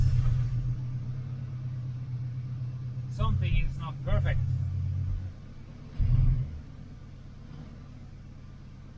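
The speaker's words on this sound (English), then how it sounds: "But it seems like the engine is going very nicely" A 1979 Pontiac engine idling after spark plug work, a low steady rumble close by that keeps running under a man's brief speech, with a short rise in level near the end.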